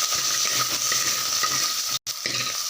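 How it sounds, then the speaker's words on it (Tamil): Onions sizzling in hot sesame oil in a pan for a village-style fish curry, a close, steady crackle with rhythmic scraping as they are stirred, briefly cut off for a split second before resuming. "நல்லா எண்ணெயில் வதங்கிருச்சு"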